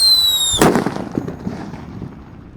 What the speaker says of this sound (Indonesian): Lanjut yang kita nyalakan di sini ada Pearl Thunder warna merah bosku.